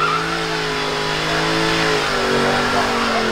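A McLaren Senna supercar accelerates on the hill course at a motoring festival, its engine note rising in loud, sustained harmonic tones that climb in pitch as it passes nearby, with no voices.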